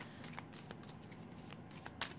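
Tarot cards being shuffled by hand, a run of quick, soft papery riffles and flicks up close and fairly quiet, with no voices.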